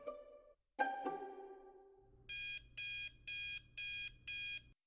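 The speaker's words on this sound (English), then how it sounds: "My alarm goes off at 4 a.m." An alarm clock goes off at 4 a.m. A fading chime-like tone comes first, then five evenly spaced bursts of shrill beeping, clear and close, with no voices.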